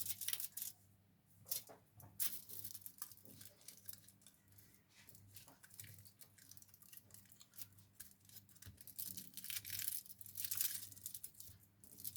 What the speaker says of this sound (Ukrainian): Та обгортаємо фольгу.